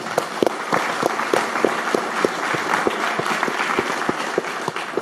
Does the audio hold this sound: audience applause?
yes